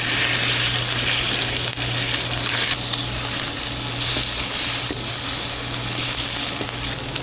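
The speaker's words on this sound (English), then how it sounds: "We have cooked this fish mostly on the flesh side." A porgy fillet fries flesh side down in a hot pan, a loud and steady close sizzle that crackles without pause and swells slightly now and then, with no talking.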